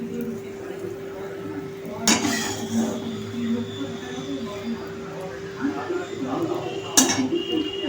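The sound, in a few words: stirring mango chutney with curry leaves in a kadai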